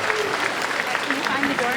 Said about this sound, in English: One more round of applause for our winners.